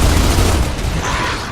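Rifle gunfire in the Gears of War 2 video game: a loud, dense roar of rapid shots and booming blasts that fills the short moment, easing slightly toward the end.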